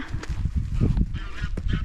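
Close, loud honking calls from waterfowl on an island, overlapping and continuous, with no talking.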